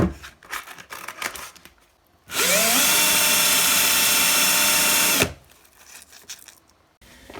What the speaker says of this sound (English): finally, actual sandpaper